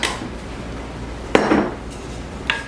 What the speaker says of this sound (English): then we want to stir that all up